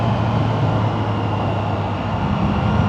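A Triumph Trident 660 motorcycle engine hums steadily as the revs drift down, a loud, continuous low drone with road and wind noise, no voices.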